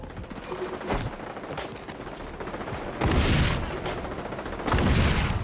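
Gunfire from an M4A1 or M16 in XDefiant, loud rapid shots with mechanical clatter, swelling into heavier bursts toward the end amid ongoing battle noise.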